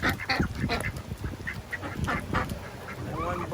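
Ducks quacking repeatedly on a farm in the rain, several birds calling in overlapping bursts at close range, with a honking call near the end.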